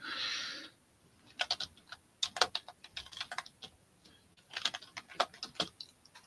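Typing on a computer keyboard during a live vintage auction broadcast, with quick uneven bursts of key clicks close to the mic, pausing briefly between runs, no voices over it.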